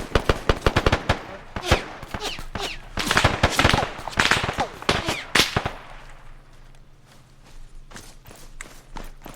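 Rapid bursts of gunfire from sniper and combat weapons in a military shooter video game, loud and close, crackling in dense volleys that thin out to a quiet, low hum.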